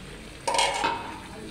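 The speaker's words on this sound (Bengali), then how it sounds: "খুব সুন্দরভাবে কষিয়ে নিচ্ছি" Curry with new potatoes, cauliflower and egg being sautéed in a pan: a brief burst of scraping and sizzle as the spatula turns it, over a low steady frying hiss, close and short.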